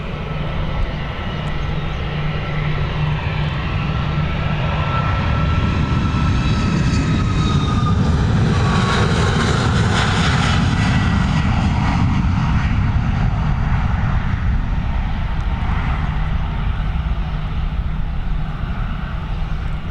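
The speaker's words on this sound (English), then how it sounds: "this 737 MAX heading over to Reykjavik. Operated by Icelandair." A Boeing 737 MAX jet airliner operated by Icelandair roars steadily through a takeoff roll and climb, a loud, continuous broadband engine rumble that builds and swells at its peak, then holds without any talk.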